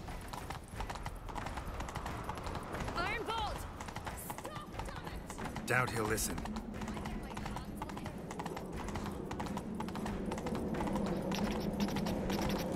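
Hooves clip-clop steadily in The Witcher 3 as a horse gallops in pursuit, a continuous rhythmic drumming at moderate volume beneath brief spoken dialogue and a horse's whinny.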